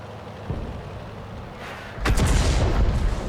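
A LeFH18B2 artillery gun in World of Tanks fires a single heavy, booming shot about two seconds in, loud and close, followed by a rumbling tail over quieter game ambience.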